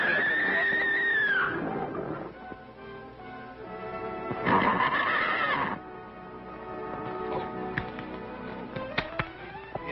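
A horse whinnies loudly nearby with a high, descending neigh at the start, and a second shrill neigh follows midway, with lighter rustling between them, in a 1948 Western.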